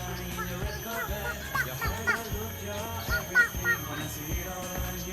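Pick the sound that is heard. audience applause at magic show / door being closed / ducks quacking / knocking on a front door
ducks quacking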